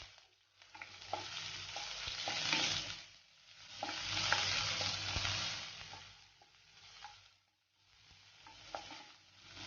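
Chopped shallots and curry leaves fry in hot oil for a brinjal masala, a steady sizzle that swells and fades in waves as a spoon stirs through the pan, with light scraping clicks and no voices.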